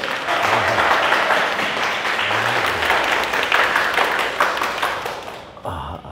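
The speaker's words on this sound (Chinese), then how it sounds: "鼓掌，鼓掌，" A group claps steadily for several seconds, dense and close, then the applause tapers off abruptly near the end.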